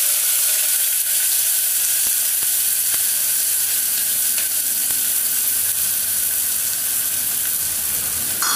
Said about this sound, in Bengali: এই পেঁয়াজটা আমি দিয়ে দেবো তেলের মধ্যে